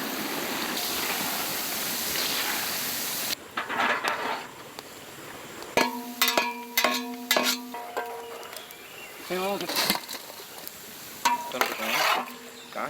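Cold-pressed sesame oil heats in a pan in an outdoor village kitchen: a dense hiss for the first few seconds, then a run of metal scrapes and sharp clinks from a spoon stirring against the pan.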